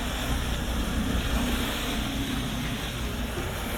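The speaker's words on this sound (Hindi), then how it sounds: "फेरी जो है समुद्र की लहरों को चीरती हुई" A ferry cutting through deep sea waves off the coast of Norway, heard as a steady, loud wash of water and wind rush with a low engine-like rumble underneath, continuous throughout.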